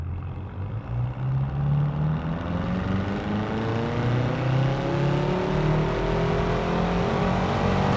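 BMW M6 Gran Coupe accelerating hard in sport mode, its engine note climbing steadily through the revs in a continuous loud roar heard from inside the car, with no talking.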